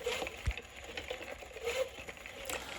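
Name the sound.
reciprocating linear-to-rotary mechanism spinning a flywheel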